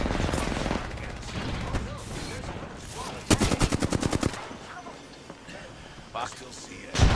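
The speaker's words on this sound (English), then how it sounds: "I am taking fire" Gunfire in a video game shooter: rapid bursts of automatic fire crackle close and loud in the middle, with scattered shots before and after, all under a player's ongoing talk.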